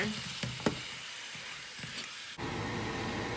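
Onion and garlic sizzling in a frying pan, a steady hiss broken by a few scraping stirs of a utensil, then the frying swells louder and more even near the end.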